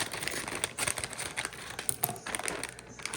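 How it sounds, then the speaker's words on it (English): Plastic bag of frozen corn cut open with scissors or a knife, a quick crinkly snipping and rustling of plastic at close range. "I'm gonna go ahead and open my bag of corn. This is frozen corn. So I'm gonna go ahead and cut that open."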